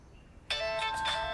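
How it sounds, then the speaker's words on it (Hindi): A mobile phone ringtone starts abruptly after a quiet moment, a bright, tonal electronic melody ringing clearly and fairly close in a room. "ये उसी का फोन है।"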